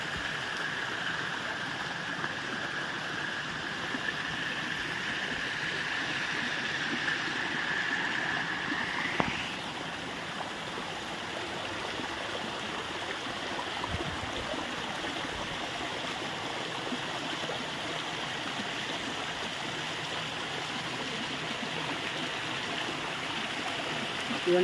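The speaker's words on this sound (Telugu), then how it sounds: "ఎంత అందంగా ఉందో అడవిలో వాటర్ ఫ్లో" A forest stream near Gandhari fort in Mancherial, Telangana, flows with a continuous, even rush and gurgle, broken once by a brief knock, with no voices.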